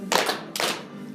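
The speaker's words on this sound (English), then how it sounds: "So let's clap now for George Washington." A pair of sharp hand claps, close and loud, keeping time in a children's sing-along about George Washington and the first presidents.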